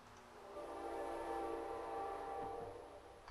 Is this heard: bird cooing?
no